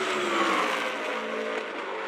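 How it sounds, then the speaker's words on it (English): S5000 open-wheel race cars at Phillip Island in a wet race, heard as a steady, loud engine roar with a slight rising whine as they pass close by, no talk over it. "the back of Cooper Webster, tucked up under the rear wing of this car as they get to the line"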